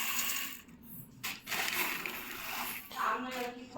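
Five measures of parboiled rice poured out, a dry grainy rush and patter with a short pause partway, close and fairly loud, without talk.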